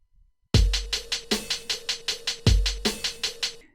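A basic hip hop drum pattern programmed on the Koala Sampler iPad app: booming kick hits with ride cymbal and hi-hats ticking steadily and snare cracks, looping through a bar and a half, loud and dry with no talking.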